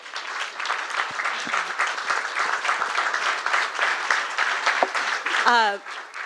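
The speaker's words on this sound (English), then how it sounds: "can we get a round of applause for him real quick?" A student panel audience breaks into sustained applause, dense clapping from many hands that carries evenly for several seconds, with a voice speaking over it.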